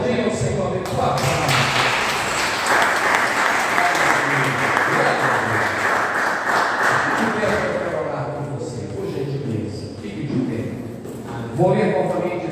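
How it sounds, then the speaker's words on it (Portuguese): A church congregation applauds in a loud, sustained wave of clapping that swells and then tapers off, with a voice speaking over the crowd at the start and the end. "Você pode aplaudir o Senhor abençoado?"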